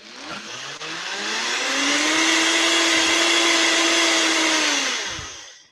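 A Vitamix blender loaded with big strawberries whirs up to a loud, steady high-speed roar that holds for several seconds, its motor pitch rising and settling before spinning down at the end.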